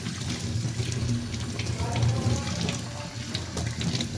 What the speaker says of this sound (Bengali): মাছটা একটু ভালো করে ধুয়ে নেব, কেমন?